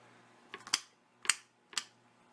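Three sharp knife chops against a cutting board, close and crisp, landing in an uneven rhythm with quiet pauses between them.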